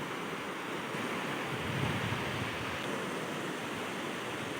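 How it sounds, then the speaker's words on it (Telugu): Waves wash steadily onto the white sand of Guhagar beach, a continuous broad surf roar mixed with some wind, with no talking. "మనం గుహేగర్ బీచ్కి చేరుకున్నాం. ఇది కూడా వైట్ శాండ్ బీచ్."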